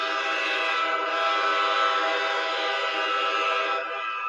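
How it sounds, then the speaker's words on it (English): A train whistle sounds as a loud, sustained, steady tone held for several seconds, close and unbroken, with no talk over it. "That train is coming"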